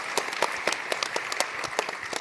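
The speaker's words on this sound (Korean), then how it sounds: "박수 한번 쳐주셔야 될 것 같아요." An audience at an entrepreneurship talk-concert claps in a brief, dense burst of applause, many hands at once with crisp individual claps throughout and no talking.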